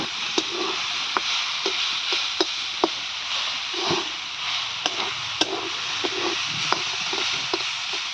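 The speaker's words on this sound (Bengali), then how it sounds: "পেঁয়াজ দিয়ে রসুন দিয়ে বানাচ্ছি একটু কলমি শাক ভাজা" Water spinach frying with onion and garlic in a pan: a steady, close sizzle runs throughout, broken by sharp clicks and scrapes from stirring, with no talking.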